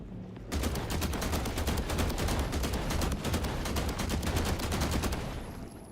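Rapid sustained automatic gunfire in the game The Last Caretaker, a dense unbroken burst of shots lasting about five seconds, loud and close, with no talking.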